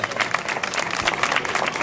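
An audience claps for a contestant at the Miss Alsace 2013 pageant, a dense and fairly loud burst of many hands with a few sharper individual claps standing out, steady throughout.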